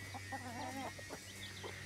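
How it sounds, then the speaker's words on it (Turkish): Hens cluck and chirp softly around newly hatched chicks in a village farmyard, short warbling calls and faint peeps over a steady low background hum. "Bakın yeni civcivlerimiz."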